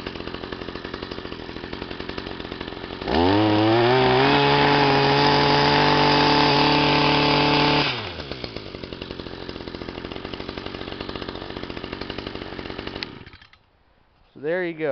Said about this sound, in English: Stihl MM55 Yard Boss cold start.